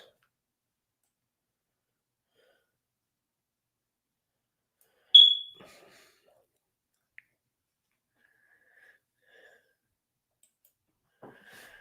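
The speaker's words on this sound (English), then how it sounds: "alarm's starting to piss me off" A smoke alarm lets out one short, sharp high chirp in an otherwise quiet room, followed by a few faint clicks and small knocks.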